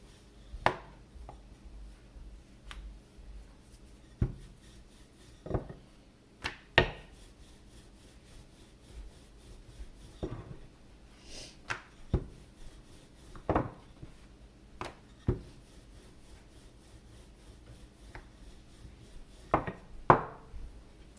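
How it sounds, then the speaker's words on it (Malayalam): Chapati dough rolled out with oil and dry flour on a board, soft rubbing passes of the rolling pin punctuated by irregular sharp wooden taps and knocks, close and fairly quiet. "കുറച്ച് എണ്ണ ഒഴിച്ച് കൊടുക്കാം. കുറച്ച് മാവിട്ട് കൊടുക്കാം. പരത്തുക."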